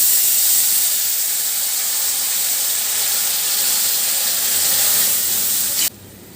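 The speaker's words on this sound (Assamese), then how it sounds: "আমাৰ দালিখিনি পূৰা উতলি আছে" Dal simmering at a full boil in a pot for an Assamese ethnic dish, giving a steady, close hiss of bubbling and steam that holds evenly before dropping off abruptly near the end.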